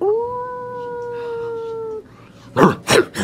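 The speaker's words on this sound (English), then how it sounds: "and barks echoing around you in the center of the forest" A long, steady wolf howl held for about two seconds, followed by a brief pause and then a couple of sharp, loud barks.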